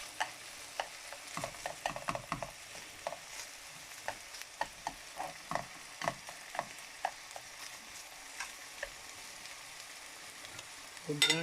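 Small pieces of Korean-style pork belly frying in a pan, a faint continuous sizzle broken by scattered clinks and scrapes of stirring, close but quiet, without talk.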